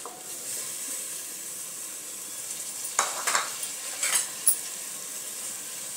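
Mixed vegetables such as peas, green beans and potatoes being stir-fried in oil for a dhaba-style masala khichdi, giving a soft continuous sizzle broken by a few sharp spoon scrapes and clinks against the pan.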